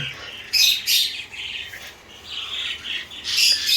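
Pet doves and cockatiels in a home aviary, including a pair of diamond doves, give bright, close chirps and squawks in several bursts, with no voices over them.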